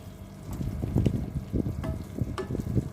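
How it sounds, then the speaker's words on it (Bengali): Chili powder and turmeric with a splash of water cook in oil for kabuli chana ghugni, making a low, bubbling simmer with scattered soft stirring knocks and faint crackles, close and moderately loud, no voice. "এইসব দিয়ে একটু এটাকে ভাজবো"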